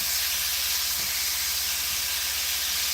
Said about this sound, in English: the pan has a nice sizzle to it